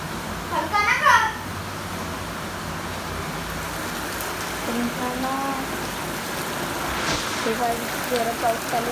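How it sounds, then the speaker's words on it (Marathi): Heavy rain pours steadily outdoors as a constant hiss throughout, while people, including a child, talk over it. "जोरात पाऊस चालू झाला."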